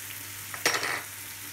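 A brief sizzle as vegetables hit hot coconut oil in a pan, a sharp crackling burst that settles into a soft hiss over low background hum.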